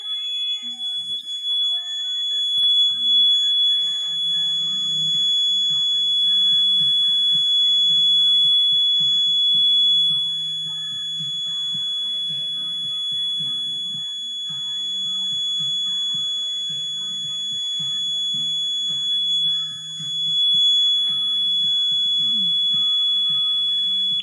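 An ADT Impassa home security alarm siren sounds during a full system test, a piercing steady high electronic tone that holds loud and continuous indoors, with faint background noise beneath it.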